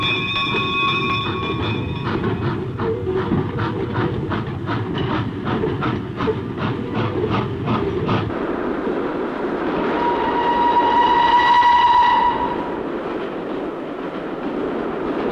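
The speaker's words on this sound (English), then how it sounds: "a steam locomotive is used to shunt the freight between the goods yard and the steelworks" A steam locomotive shunting freight between a goods yard and a steelworks in Australia rolls past with a steady rhythmic clatter of wheels over rail joints, then a long whistle-like tone sounds amid hissing and rumble.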